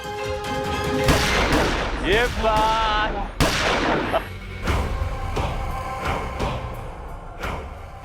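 Fireworks for a brother's wedding: a rapid crackling burst of sharp bangs and pops, loud and close, with a few isolated cracks afterward, mixed with music and a brief voice.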